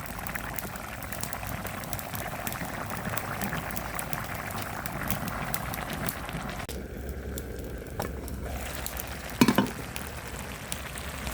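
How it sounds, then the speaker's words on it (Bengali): A curry boils in a pot as fresh greens are added, giving a steady bubbling, sizzling wash that dips briefly partway through, then a short clatter near the end, close and without talk. "তরকারিতে বলক উঠে গেছে"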